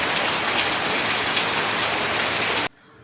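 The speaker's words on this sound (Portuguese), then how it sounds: "Vocês gostaram da trilha sonora que eu botei de chuva?" Steady, dense rain hisses loudly as a background soundtrack, then cuts off abruptly to near silence.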